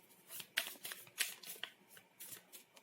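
Tarot cards being shuffled by hand during a Hindi-language reading, giving a quick series of soft riffling and flicking bursts with sharper snaps, close and fairly quiet, with no talking.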